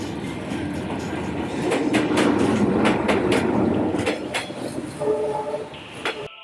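A train rolls through a narrow city train street in northern Vietnam, its rumble and rattling wheels steady and fairly loud, with a brief high tone near the end.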